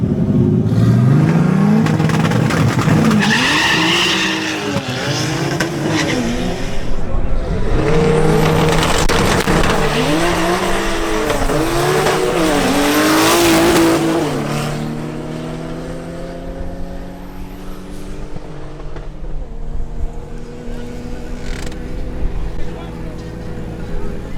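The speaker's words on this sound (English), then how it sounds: "Next up is Leonardo Lillo in his BMW 325i." A BMW 325i launches and accelerates hard down a drag strip, the engine revving up through several gear changes, loud and close, then fading into quieter running.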